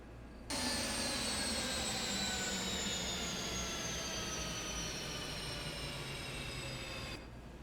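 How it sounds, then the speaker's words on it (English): Jet engines of an airliner in the X-Plane 12 flight simulator spool down after landing at Key West, a loud whine of several tones sliding slowly downward over a steady roar, then stopping abruptly. "Turn off those engines."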